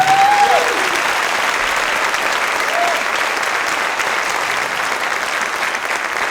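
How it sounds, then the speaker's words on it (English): Steady, loud applause from an audience at an outdoor dedication ceremony, a dense wash of clapping filling the whole stretch, with a brief whistle near the start. "let's give this band a big round of applause over here for Howard."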